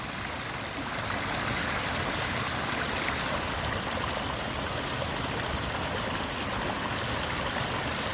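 A natural stream of flowing water rushes steadily and continuously, a dense broadband wash close by with no other sounds or voices.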